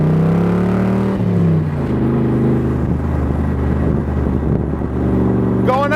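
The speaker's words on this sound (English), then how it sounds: "We're gonna get it up on the expressway and see how she runs." A 1965 Shelby Cobra replica car drives onto an expressway, its engine droning loud and steady with a low rumble throughout, briefly shifting pitch as it changes speed near the start.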